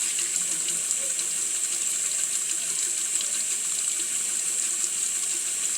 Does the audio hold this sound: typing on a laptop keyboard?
no